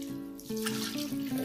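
Salty water poured into a bowl of bread dough mix with olive oil for Italian-style raisin and blueberry bread, a steady close splashing pour running throughout with no voices.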